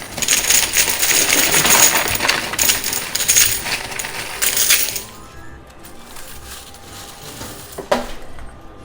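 Coins clattering down the loot chute of a high-limit coin pusher machine, a dense rush of metallic clinks for about five seconds that then thins to sparse rattles and a single sharp clink near the end.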